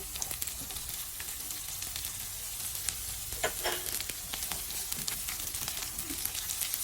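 Sliced onions sizzle and fry steadily in a pan for a creamy pork mushroom dish, a soft, continuous crackle with light stirring scrapes.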